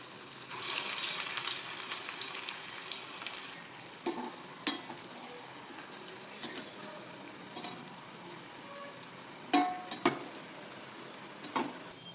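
Oil sizzles steadily as corn fritters fry, with occasional clinks and pops from a pan or spoon over the constant hiss.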